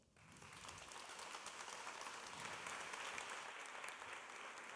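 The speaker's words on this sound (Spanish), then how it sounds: "Un fuerte aplauso para él." Audience applause for a presenter at a Málaga design talk, a dense steady clapping from a crowd that starts abruptly and holds at an even level throughout.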